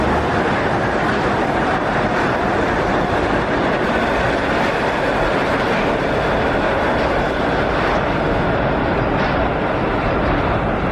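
A suspended monorail train runs past with a steady, loud rumbling roar and faint rhythmic rail clatter, continuous throughout with no talking.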